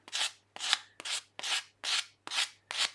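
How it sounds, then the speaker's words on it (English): Sandpaper, around 180 grit, rubbed by hand over a wooden box piece to round an end, seven even rasping strokes in a steady rhythm, close and fairly quiet, no voices. "And a piece of sandpaper. So what I need to do now is just round that over."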